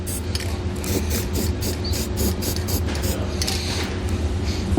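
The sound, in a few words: spray paint can spraying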